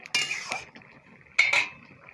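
A metal spoon scrapes and clinks against a pot while stirring a taro-stem curry with garam masala, two short close bursts separated by a quiet gap.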